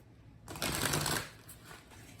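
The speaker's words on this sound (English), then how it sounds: "I'm still shuffling for this one" Tarot cards being shuffled by hand, a soft burst of riffling and sliding card noise that swells for about half a second, then fades into lighter rustling, close and quiet.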